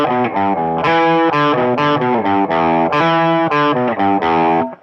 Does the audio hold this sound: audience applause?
no